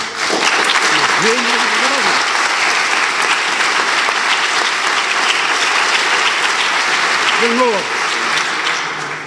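Audience applauding in a hall, a loud sustained roar of clapping throughout, with a voice briefly speaking over it twice.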